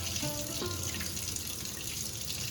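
Running tap water pours steadily over rice in a bowl as the grains are rinsed of starch, a continuous close splashing wash with a few brief tonal ripples near the start.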